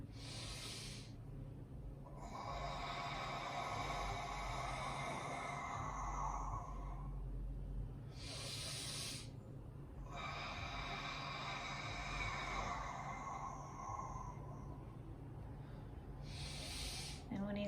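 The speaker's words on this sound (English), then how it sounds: "and I'm going to breathe in" Slow, deep abdominal breathing: long airy inhales alternating with long exhales, each several seconds, close to the listener with a quiet background hum.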